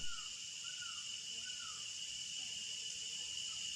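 Cicadas in dry-season woodland keep up a constant loud, dense buzzing drone that holds steady throughout, with a few faint bird calls over it.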